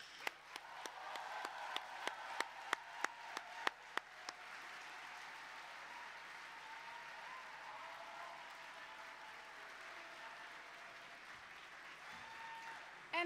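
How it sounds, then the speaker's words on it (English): An audience at a graduation ceremony applauds, with evenly spaced claps ringing out at first, then the clapping settles into a softer wash and fades toward quiet room tone; the whole stretch is faint and distant. "Let us all come together and join in a big applause for the class of 2023"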